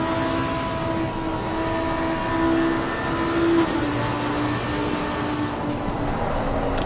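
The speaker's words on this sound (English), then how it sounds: "So you can hear the tone of the engine" A GT3 racing car in the game Assetto Corsa Competizione at Bathurst gives a steady, loud engine drone with a sustained tonal whine, holding an even pitch with slight swells throughout.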